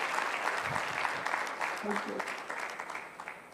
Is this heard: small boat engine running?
no